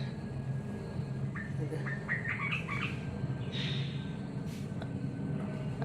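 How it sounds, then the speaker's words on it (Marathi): A brief series of bright bird chirps, a handful of quick calls a short way off, over a steady low rumble of background noise. "कुठचा पक्षी आहे मला काही समजत नाही"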